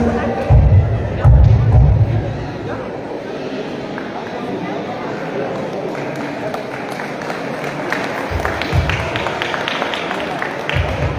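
An audience at the Señorita CBTIS 2024 pageant in Coxcatlán claps steadily in a hall, a dense wash of applause with a few louder thumps and crowd murmur underneath.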